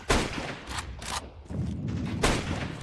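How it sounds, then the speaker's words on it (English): Sharp bursts and booms in a video game as a flashbang grenade is thrown, several loud impacts in quick succession with brief gaps, close and dominant. "Throwing flashbang."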